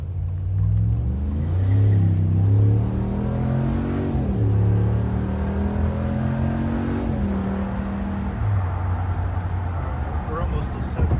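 A car fitted with a Flowmaster Flow FX muffler accelerating onto a highway, its exhaust droning and rising in pitch through the gears, heard from inside the cabin with someone talking over it.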